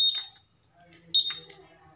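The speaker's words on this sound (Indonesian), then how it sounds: "Kalau pendaftarannya itu harus ada suara buzzer 3 kali tit titit" Smartkey remote buzzer on a Honda Vario 150 scooter with a dead electrical system, giving sharp high beeps, a short one at the start and another burst about a second later, near and clear with faint voices between.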